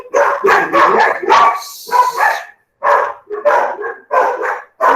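Repeated dog barking in quick bursts, loud and close, with short pauses between volleys and no voices.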